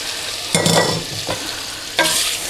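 Tagliatelle goes into a buttered pan on very low heat and gets stirred, making a soft continuous sizzle broken by a few louder scraping bursts.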